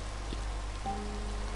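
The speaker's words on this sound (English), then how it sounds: "It's raining, so I can barely see anything." Steady rain falling in the video game Minecraft, a constant soft hiss with a low hum, a brief tap early on and a faint tonal chime entering midway.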